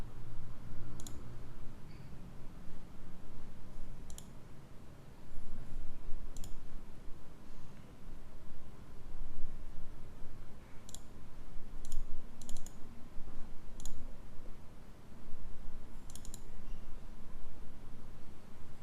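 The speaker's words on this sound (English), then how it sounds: "change this to Brazil, click Save, click on Load Data" Computer mouse clicks while working in Qlik Sense, a series of sharp isolated clicks spaced irregularly, some in quick pairs, over a steady low room noise with no talk.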